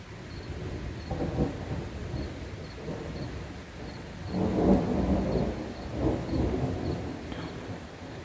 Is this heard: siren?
no